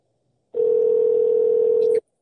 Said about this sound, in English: Sorry for the phone ring.